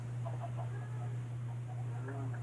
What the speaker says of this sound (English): Alright, chickens.